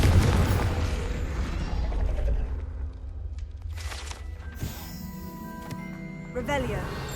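A Confringo fire spell in Hogwarts Legacy bursts with a deep boom at the start, then a fading rumble with lighter clinks and game ambience, close and moderately loud.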